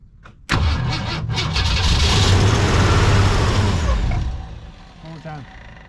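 A Lincoln car with a leaking carburetor cranks and tries to start, a loud sustained churning engine roar that fades after about four seconds, followed by a brief voice.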